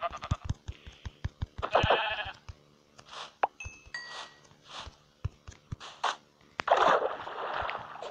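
Sheep bleat in short bursts while the flock is being gathered outdoors, with knocks, scuffs and rustling in between and several louder calls close by.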